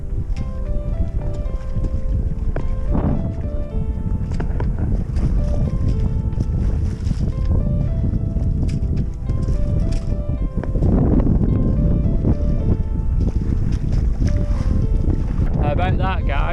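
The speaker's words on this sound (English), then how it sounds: "I'm sailing under my Genoa" A small yellow sailboat runs under its genoa along the Felixstowe coast, steady loud wind rush and water wash against the hull with a few creaks, continuous throughout.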